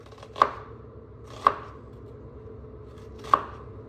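Three crisp knife chops strike a cutting board while an onion is diced, spaced unevenly, close and clear against quiet room noise.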